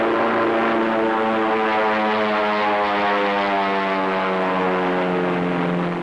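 A propeller stunt plane from a 1954 flying short performs a snap roll, its engine a loud, steady droning roar with strong harmonic tones that holds near and constant throughout, with no voices.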